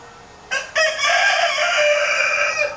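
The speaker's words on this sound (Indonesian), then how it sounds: "Oh, ada suara ayam." A rooster lets out a single drawn-out crow, clear and moderately close, over quiet background.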